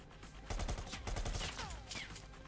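Rapid gunfire from an Unreal Engine game demo, a dense fusillade of overlapping shots and bursts that runs loud and steady for over two seconds, with no talk over it.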